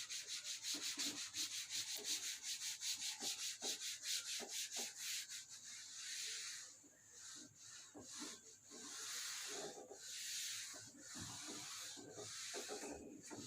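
An eraser or duster rubbing equations off a classroom board, in a steady run of fast back-and-forth scrubbing strokes at first, then slower, broader wipes, close and fairly loud with no talking.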